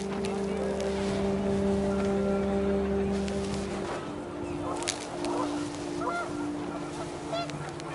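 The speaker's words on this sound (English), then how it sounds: "The wind picked up and panicked geese appeared and quickly went." Panicked geese honk in the video game What Remains of Edith Finch. Faint, scattered honks rise over steady wind and a low engine-like drone, heard at a distance.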